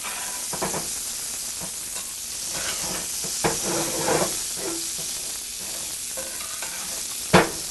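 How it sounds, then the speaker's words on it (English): Pork chops sizzle steadily in a hot pan while being basted with their own juices; a continuous close frying hiss is broken by occasional spoon scrapes and a sharp clack near the end. "I'm going to capture these juices and baste my chops"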